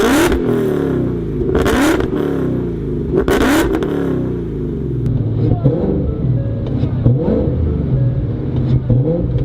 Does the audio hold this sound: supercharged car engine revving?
yes